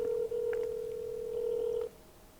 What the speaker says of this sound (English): See if we can get her on the phone.